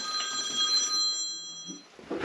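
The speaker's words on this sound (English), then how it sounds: "Phone always going." A telephone rings in a plumber's work setting, a bright electronic bell tone repeating over about two seconds, moderately loud and alone with faint background.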